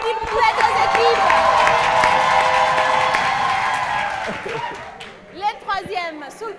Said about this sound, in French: On applaudit pour les deux équipes.